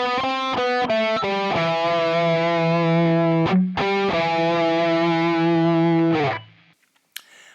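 Distorted electric guitar plays a lead run from a solo, loud and sustained, with quick picked notes leading into long held tones, a short break, then a clean cutoff.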